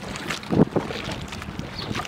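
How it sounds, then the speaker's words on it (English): Wind buffets a microphone over choppy water, with a couple of brief thumps of waves slapping against a boat hull near the start. "It's choppy, fairly windy today."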